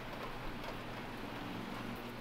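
Rain falling in Oklahoma while chicken strips cook outdoors; a faint, steady hiss of rainfall with a low hum beneath, continuous and without voices.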